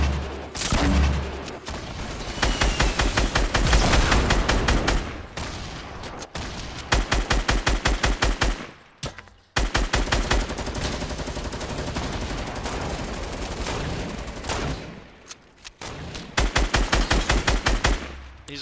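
Rapid automatic gunfire from a Fortnite Battle Royale match, with sustained loud bursts of shots and brief pauses between volleys, no talking.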